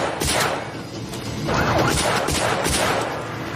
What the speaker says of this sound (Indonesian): Kapten kemudian kehabisan peluru senapan dan mencoba pistol, tapi tetap tidak ada satupun peluru yang mengenai sasaran.